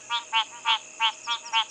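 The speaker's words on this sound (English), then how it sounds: "I'm so rusty with my frog calls that I actually can't even remember what species this really is." Six evenly spaced, pulsing croaks from a frog at a bushveld dam, clear and moderately loud over a quiet background.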